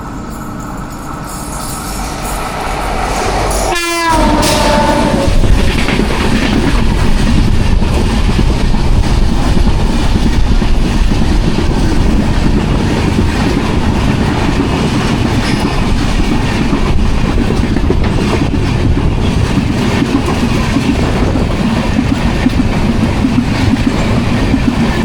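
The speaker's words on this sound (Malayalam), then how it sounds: "നമ്മൾ കുറച്ച് നേരം കാത്തു നിർത്തിയിട്ട് മത്സ്യഗന്ധ എക്സ്പ്രസ് വരുന്നു." Matsyagandha Express passing close by with a loud, steady rolling rumble and rattle of wagons that lasts most of the clip, preceded near the start by a short, strident horn-like tone.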